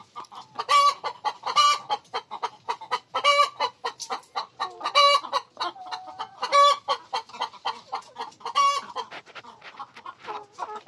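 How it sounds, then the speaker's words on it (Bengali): Layer hens on a poultry farm clucking in rhythmic repeated bursts, with a rooster-like call mixed in, close and fairly clear over a quiet background, no talk. "তো দেখেন আমার মুরগিগুলা"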